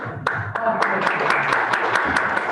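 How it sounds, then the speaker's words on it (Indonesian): A crowd applauds steadily at a school committee inauguration, with dense overlapping claps and a few sharper individual hits, with no talking over it. "Boleh tepuk tangannya Bapak Ibu."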